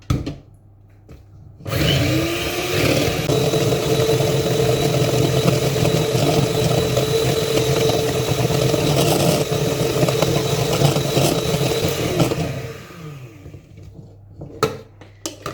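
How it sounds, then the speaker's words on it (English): An electric whisk whips cream in a bowl, a loud continuous motor whir that starts abruptly, runs steadily for about ten seconds and then cuts off, with faint knocks before and after. "When using an electric whisk, always put the paddles into the cream before you start it."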